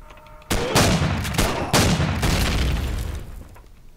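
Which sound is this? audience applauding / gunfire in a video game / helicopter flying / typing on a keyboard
gunfire in a video game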